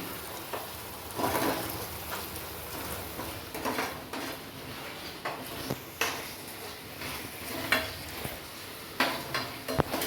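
Onions sauté in a kadai for a chicken dish, a soft continuous sizzle broken by repeated scraping and clanking of a spoon against the pan, fairly close and moderately quiet with no talking.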